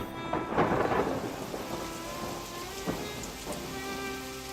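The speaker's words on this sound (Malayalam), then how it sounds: "ചുറ്റും ശക്തമായ മഴ ആർത്തിരമ്പി" Steady heavy rain pours down while a rumble of thunder rolls early on, followed by a few sharp crackles.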